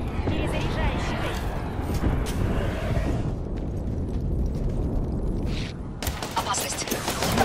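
Gunfire and explosive bursts fill a chaotic Apex Legends firefight, rumbling continuously and loudly beneath a game's voice announcements, with a sharper burst of shots near the end.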